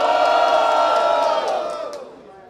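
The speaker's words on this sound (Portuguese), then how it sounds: "Barulho só pra quem achou que foi a dupla do Caê, família!" Rap battle crowd cheering and shouting together in a loud burst, a dense wall of voices that stays strong and then fades out toward the end.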